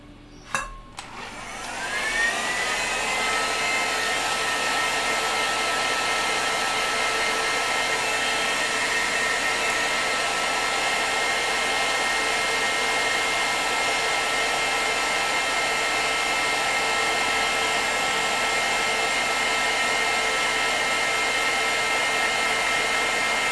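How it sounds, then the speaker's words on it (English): A hair dryer blows steadily to dry paint on a miniature painting, starting with a click and rising to a constant loud, close whoosh with a high whine that runs unbroken to the end. "Actually, I've got my dryer here."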